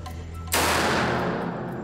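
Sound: rifle firing 100-year-old Buckingham rounds remotely

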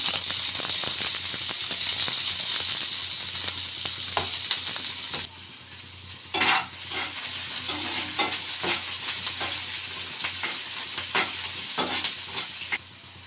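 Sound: onions and curry leaves frying in oil with spluttering mustard and cumin

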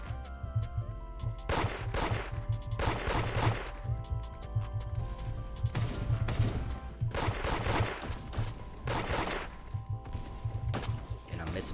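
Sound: gunshots in a video game

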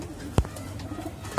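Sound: pigeons cooing

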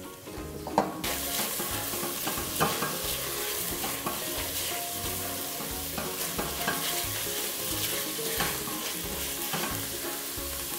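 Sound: onions and minced meat sautéing in olive oil in a pot

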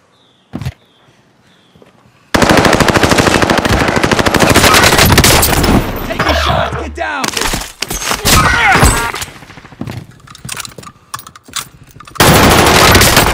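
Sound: gunfire in Call of Duty: Modern Warfare video game

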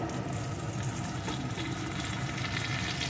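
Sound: ginger garlic paste frying with onions in a pan

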